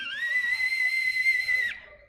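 A slide penny whistle, its slide pushed in to shorten the tube, sounds one steady high note for nearly two seconds before it cuts off sharply.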